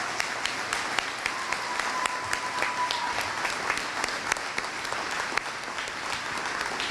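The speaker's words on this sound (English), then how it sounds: "please join me in applauding the class of 2028's fine scholars" At a middle school closing ceremony, an audience applauds the graduating class, giving steady, moderately distant clapping from a large room that holds evenly throughout with a few sharper individual claps standing out.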